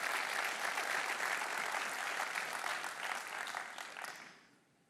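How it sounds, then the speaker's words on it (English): Applause from a keynote audience in a large hall, a dense sustained roar of many clapping hands that holds steady for several seconds and then tapers off. "Big round of applause."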